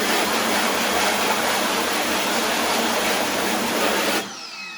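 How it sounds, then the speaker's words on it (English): Water spray rinsing emulsion out of a screen printing screen, a loud steady hissing rush held close for about four seconds before it stops abruptly. "I'm going to go ahead and actually rinse it out"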